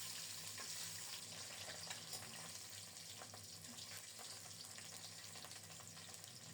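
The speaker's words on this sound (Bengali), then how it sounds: "তেল গরম হলে হলুদ লবণ মাখানো ডিমগুলো ছেড়ে দিলাম" Turmeric and salt coated eggs frying in hot oil, giving a steady, faint, hissing sizzle that holds evenly throughout with no talk.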